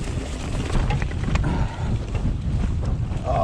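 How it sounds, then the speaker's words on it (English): Strong wind buffets the microphone during a blizzard at the top of a mountain trail, a loud, steady rushing roar with gusty surges throughout and no talking. "Oh, the wind."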